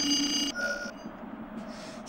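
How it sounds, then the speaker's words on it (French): An alarm clock rings with a bright electronic tone for about half a second, then cuts off into a quieter room hum and faint tones. "Oh là là. Réveil."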